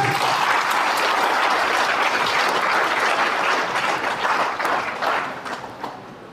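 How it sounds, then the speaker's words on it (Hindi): Dense audience applause at a marketing event, many hands clapping in a loud continuous wash that fades out near the end. "तालियां बनती हैं मेरे हिसाब से न्यूट्री चार्ज में"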